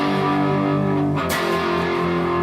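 An electric guitar with mild distortion plays a pre-chorus power-chord riff from a song, loud and sustained, alone without talking.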